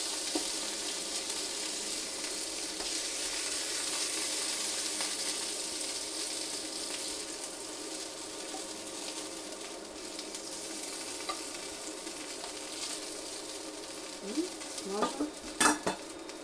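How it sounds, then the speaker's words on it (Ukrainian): Steady sizzling of rabbit meat frying in a pan, with occasional scrapes and clinks of a utensil stirring toward the end. "злегка обсмажили кролик"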